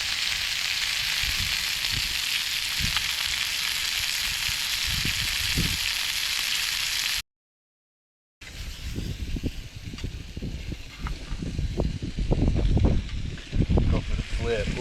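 Crappie fillets frying in a pan on a riverbank and being flipped with a brand-new spatula, a steady loud sizzle that cuts out briefly, then returns with sharper popping crackles after the flip.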